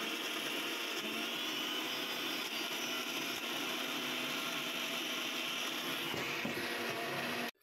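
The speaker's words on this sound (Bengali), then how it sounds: "এবার এটাকে আমি ব্লেন্ডারের সাহায্যে এতে ভালো করে ব্লেন্ড" An electric blender grinds soaked lentil paste for doi bora, a steady loud whirring drone running continuously before cutting off abruptly at the end.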